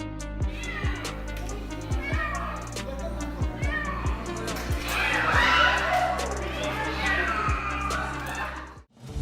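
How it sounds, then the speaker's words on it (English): A stuck kitten meows repeatedly, loud and close, with high plaintive cries in quick succession, over a busy background with some voices and music. "This kitty got stuck and was clinging to its life"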